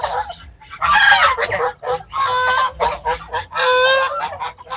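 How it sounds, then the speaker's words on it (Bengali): Geese in a park honk loudly and repeatedly in close, overlapping bursts, with a few chicken-like clucks mixed in. "পার্কের ভিতরে দেখতে পাচ্ছেন অনেক রাজহাঁস।"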